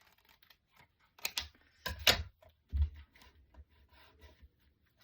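Scissors snipping paper while fussy cutting a card-making piece with a tiny border, a few short crisp cuts clustered in the middle, close and quiet with no talking.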